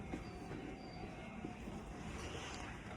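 Steady rumble of a train at a railway station in Saitama, Japan, a continuous close wash of rail noise and wheel rattle with no voices.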